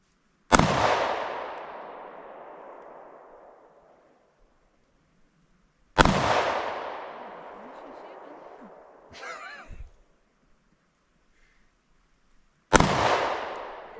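Three loud, close handgun shots from a small concealed-carry pistol, about six seconds apart, each a sharp crack trailing into a long echoing decay, with a brief rustle between the second and third.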